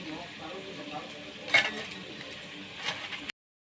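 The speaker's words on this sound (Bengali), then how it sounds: "কষানো প্রায় হয়ে গেছে।" Goat meat sautéing in a pan for an Eid-style curry, a soft steady sizzle broken by a couple of scraping stirs, close by, with no voices.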